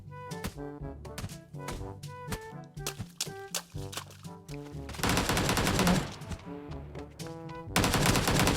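Gunfire in the mobile battle royale PUBG New State: bursts of rapid shots with music-like tonal game sounds underneath, then two dense, loud volleys of automatic fire near the end.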